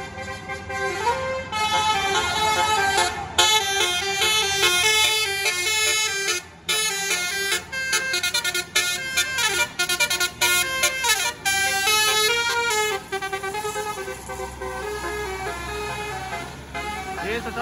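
The telolet musical horn of a Kiki Trans Vegas bus plays a long, loud, melodic sequence of tooting notes with brief pauses, close by on a road near Pangandaran, over traffic and crowd noise.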